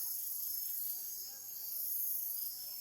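Small frogs or toads calling from a bush in a tree give a steady, high, shrill chirring trill that runs continuously and stays faint and even, with no talking.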